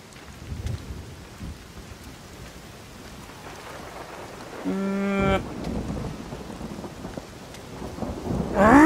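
Steady rain falls in a thunderstorm in the video game Everybody's Gone to the Rapture, with a low rumble of thunder building and swelling near the end; a short tonal call briefly sounds midway.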